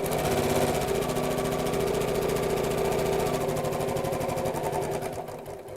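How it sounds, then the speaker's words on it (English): A sewing machine runs steadily, stitching fabric bunting pieces together along their long sides, a loud close buzzing whir that continues unbroken for several seconds before slowing and fading at the end. "Now I'm going to sew each of these pieces together along the two long sides"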